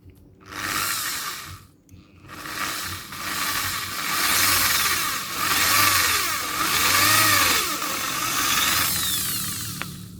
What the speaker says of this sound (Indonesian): langsung aja bor dulu kawatnya